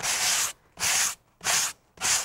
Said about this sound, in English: make sure you sand in the direction of the wood or with the grain of the wood